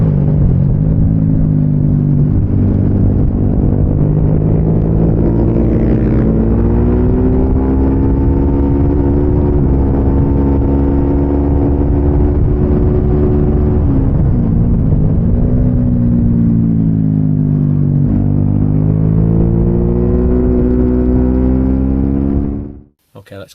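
Motorcycle engine on the National circuit at Donington, loud and continuous as it pulls out of a corner onto a short straight, the pitch rising and falling through gear changes before cutting off abruptly at the end.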